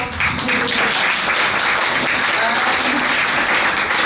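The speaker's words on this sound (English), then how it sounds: "First round of applause for this amazing intro that I made in English." Loud, sustained applause from an audience at a literature festival's opening, continuous clapping with a murmur of voices beneath it.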